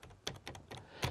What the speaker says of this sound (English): that's a nice clackety-clack you get from these keys